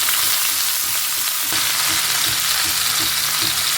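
Bitter gourd sizzles steadily in about a tablespoon and a half of hot coconut oil over a medium flame, a loud, close, continuous hiss with soft stirring knocks after the first moment.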